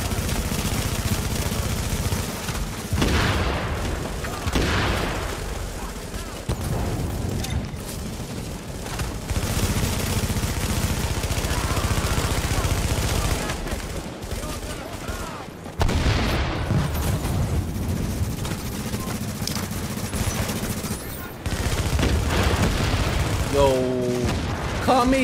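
A Last Stand match in The Division gives off a steady wash of weapon fire with booms and rattling bursts under excited talk from players throughout.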